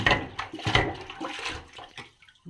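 Water draining and gurgling from a kitchen sink just unclogged with a plunger, uneven watery splashes and rushing that fade toward the end before a final short gush, close by with no talking.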